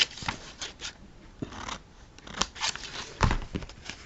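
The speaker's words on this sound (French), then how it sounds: "Je vais couper là." Scissors cut parchment paper to form a Pergamano lace edge: a run of close, crisp, papery snips and scrapes in uneven bursts, with no talk.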